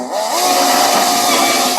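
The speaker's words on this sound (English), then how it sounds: "And I want to drill." A loud, steady motorized whine of a power drill drilling into a wall, running continuously for a couple of seconds, close by.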